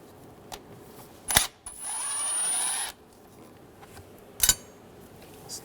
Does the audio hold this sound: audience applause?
no